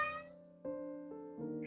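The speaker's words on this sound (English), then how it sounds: "And my kitty cat meows too." A pet cat meows three times in quick succession, each call clear and tonal, fairly faint and close, with no talking over it.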